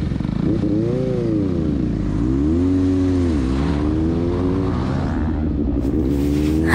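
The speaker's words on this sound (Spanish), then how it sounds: "pillen pues qué potencia la de esta moto" A Suzuki GSX-S 750 motorcycle accelerates hard close by, its engine note climbing and dropping through several gear changes in a loud, continuous snarl with no voices.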